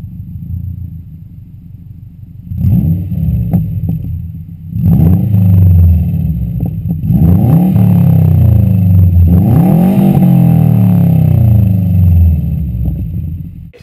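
A 2014 Subaru WRX hatchback with an aftermarket N1 exhaust starts up and revs, giving a loud, close rumble with several rising revs that settle into a steady idle, and no talking.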